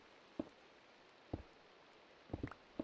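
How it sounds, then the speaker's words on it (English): Steady rain falls in the Minecraft video game, a faint, even hiss broken by a few soft, sharp thumps spaced irregularly across the stretch. "Thunder raining."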